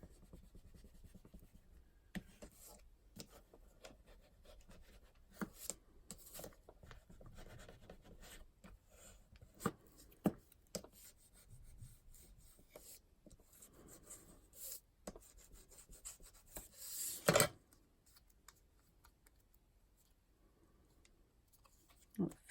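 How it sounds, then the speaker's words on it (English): Paper is burnished down onto an altered paperclip with scattered soft rubbing and scraping strokes, close and quiet, broken by small clicks and one sharper scrape near the end. "I'm going to get just really trying to burnish that down a little bit."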